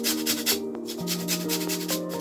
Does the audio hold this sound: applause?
no